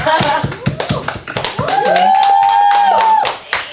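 Several people clap in sharp, distinct bursts at close range, loud and irregular, while voices talk and exclaim over the claps on a live show.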